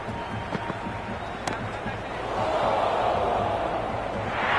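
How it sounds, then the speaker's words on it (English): A cheering stadium crowd at a T20 cricket match between India and New Zealand in the video game Cricket 26, a dense broadband roar that swells louder through the second half. "Will you listen to that crowd? They are loving this."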